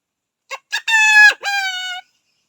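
A person imitates a rooster crowing: two short clipped notes, then a long rising-and-falling call, close and loud, with silence around it.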